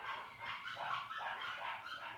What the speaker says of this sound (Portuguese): não tem mínima condições pra gravar com esse barulho de cachorro e os outros barulhos que estão lá fora